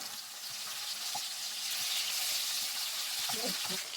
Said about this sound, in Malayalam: നമുക്കിനി ഈ മീനെല്ലാം ഒന്ന് തിരിച്ചിട്ട് കൊടുക്കാം